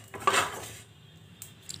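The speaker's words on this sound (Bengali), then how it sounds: "আমি এখানে জিরেগুলোকে ভেজে নিচ্ছি হালকা" Cumin seeds are dry-roasted in a pan and stirred with a utensil, giving a brief metallic scrape and clink up close, followed by a few faint taps.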